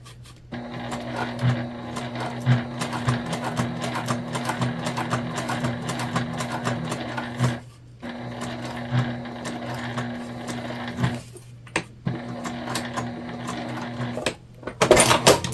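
Close, steady humming and rapid stitching of a sewing machine top-stitches an Explorer Sling bag, running for long stretches with a few brief stops and a louder burst at the end.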